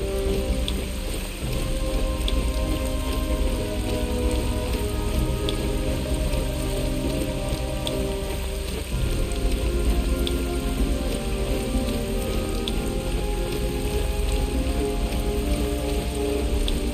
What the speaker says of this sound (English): That is some heavy-ass rain, people.